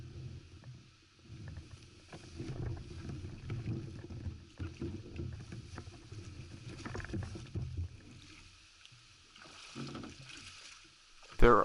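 A kayak glides in to land on a boat run in Howe Sound, soft paddle strokes and water swishing close by in wind, faint and steady, ending with a louder scrape as the hull touches shore.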